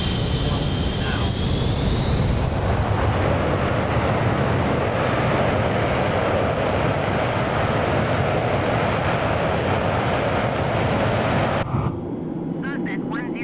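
Concorde's engines roar at takeoff power through the takeoff roll, a loud, continuous, broadband thunder with a rising whine early on, holding steady before cutting away sharply near the end.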